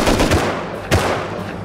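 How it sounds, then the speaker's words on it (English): Gunfire in the survival video game Rust during a cargo ship event, heard as a dense rattle of close, loud shots with a sharper single report near the end. "I'm gonna shoot this guy right above me"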